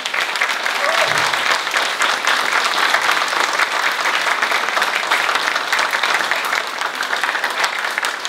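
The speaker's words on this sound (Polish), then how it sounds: "jej się należą wielkie brawa" Big, sustained applause from a theatre audience after the composer of the music for a Christmas Carol stage production is named, dense and even throughout with no break, loud and alone.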